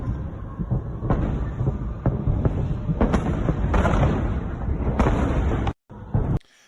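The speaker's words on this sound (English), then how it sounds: "Here are the sounds of the artillery right on the outskirts." A rapid series of heavy artillery booms and blasts on the outskirts of Belgorod rolls on continuously, loud and rumbling, then cuts off abruptly near the end.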